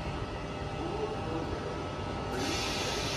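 A Sydney Trains Tangara electric train rumbles steadily nearby at Kogarah station with a broad rolling roar, and a hiss of air brakes or wheel noise rising toward the end.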